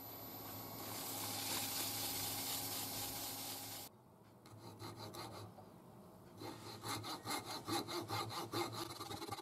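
A small wooden box spins on a Coronet Herald lathe as it is buffed: a close, steady rubbing hiss with the lathe's hum, then a pause and a series of rhythmic, pulsing rubbing strokes.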